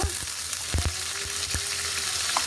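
Chopped onion fries in oil with a steady, close sizzle, broken by a few soft clicks and taps from the pan.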